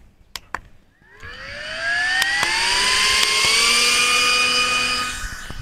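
A few sharp clicks, then a small portable KOORFLY MF01 electric fan spins up and hums steadily with a rising whine before slowing slightly toward the end.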